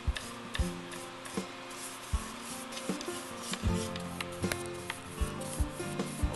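New Wave palette finish is rubbed onto a wooden palette by hand, giving soft continuous rubbing and wiping close to the listener, broken by frequent light taps and knocks.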